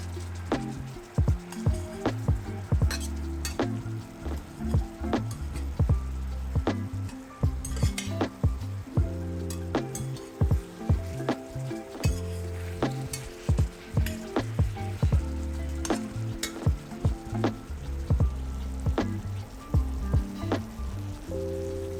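Potato mochi cooks in a pan of thickening soy sauce and sugar glaze, bubbling and sizzling close up with frequent sharp clicks and scrapes of a utensil turning the pieces, no voices.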